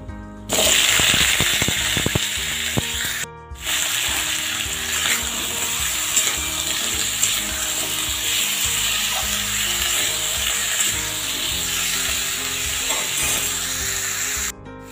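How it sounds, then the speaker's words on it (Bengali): Steady loud sizzling of pumpkin frying in hot oil, with a few stirring clatters and a brief break near the start. "এবার আমি মিষ্টি কুমড়োটা দিয়ে দেব"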